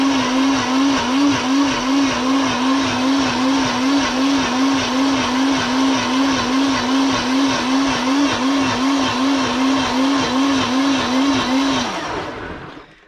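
A blender whirs steadily while blending watermelon juice, a loud, continuous motor drone with a fast regular pulse that runs for about twelve seconds before cutting off and fading out.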